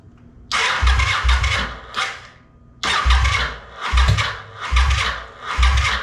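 A 2005 Kawasaki VN750 motorcycle, just fitted with a new stator and on choke, cranks in several loud bursts: the starter churns and the engine catches briefly, stumbles and cranks again, close and without talk.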